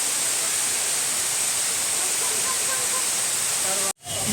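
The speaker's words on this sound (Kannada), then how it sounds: "ಈ ಥರ ನೀರೆಲ್ಲ ಎಲ್ಲ ಥರ ಫಾಲ್ಸ್ ಟೈಪಲ್ಲಿ ಸೂಪರಾಗಿ ಕಾಣಿಸ್ತಾ ಇದೆ" An artificial waterfall water feature beside a Saraswati idol at a temple gives a loud, steady, close rush of falling water that fills the whole clip before cutting off abruptly near the end.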